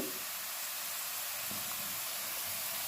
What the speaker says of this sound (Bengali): এখানে আমি পেঁয়াজগুলো ভেজে নিচ্ছি।